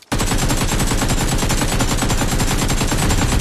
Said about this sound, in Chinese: 一波空枪扫射将敌人周围的空气成功打散